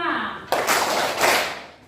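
A class of pupils performs the Tepuk P5 rhythmic group clap, a sudden burst of many hands clapping in unison that starts after a short lead-in and carries on for over a second before tailing off.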